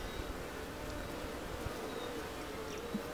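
Honeybees crowd over a raw, not yet drawn-out comb during a hive check, giving a faint, steady buzzing hum throughout with no talking.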